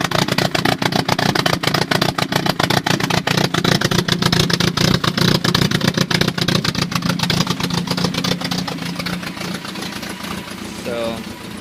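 Car engine idling, heard at the tailpipe: a steady, rapid exhaust pulse, close and fairly loud, easing slightly toward the end.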